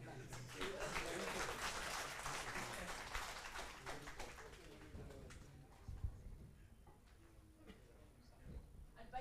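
Audience applause after a talk at a groundwater management event: dense clapping fills the first half, then thins out and fades while talk begins over it.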